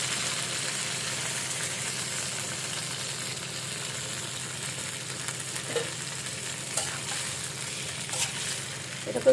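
Marinated meat poured onto hot oil with whole cumin seeds sizzles loudly and steadily in a pan, a dense continuous frying hiss with occasional stirring clinks and no speech.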